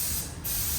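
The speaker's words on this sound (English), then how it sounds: "you're just going to spray it" Scotchgard protector sprayed onto new suede shoes, a steady close aerosol hiss that dips briefly mid-burst before resuming at full strength.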